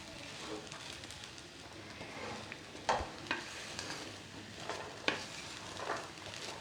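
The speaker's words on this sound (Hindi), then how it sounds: "साबूदाना घी में अच्छे से मिक्स हो चुका है।" Sago pearls (sabudana) get stirred in ghee in a non-stick pan, a soft continuous sizzle broken by a few sharp scrapes and clicks of the spoon against the pan.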